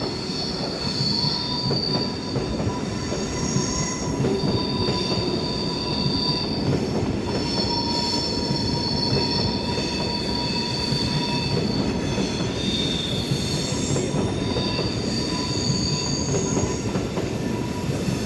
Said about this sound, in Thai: เป็นสถานีรถไฟในตัวซูริกค่ะ สถานีใหญ่เห็นไหมคะ รถวิ่งสวนกันค่ะ